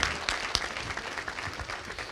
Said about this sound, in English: Let's give him a round of applause, everybody, and welcome.